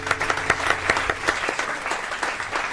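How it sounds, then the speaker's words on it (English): An audience at a live show breaks into applause, a dense crowd of clapping hands with a few sharper individual claps standing out, steady and moderately loud for a few seconds. "All right, where's the applause"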